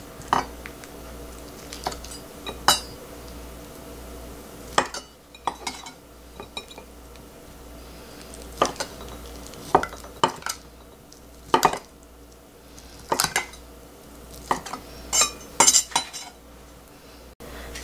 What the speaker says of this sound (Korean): 소라는 한 입 크기로 먹기 좋게 자 이렇게 썰면 돼요